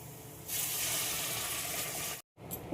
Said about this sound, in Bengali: দেখো এগুলো ঝোলটা ফুটছে